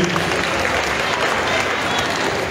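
Loud, dense crowd applause at a Miss pageant festival, continuous clapping from many hands with cheering mixed in, filling the whole moment.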